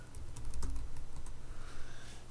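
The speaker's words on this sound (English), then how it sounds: "Type into Google search" Quick bursts of keystrokes on a computer keyboard while typing a search query, close and fairly quiet over a low room hum, with no talking.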